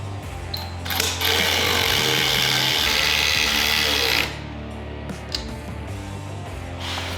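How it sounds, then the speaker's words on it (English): A power drill bores bolt holes through the plastic lower door and fender flare panels on a Honda Talon 1000X-4 side-by-side, a loud steady whine for about three seconds with shorter bursts before and after. "then we can line everything up on our body and drill our holes just like on the front"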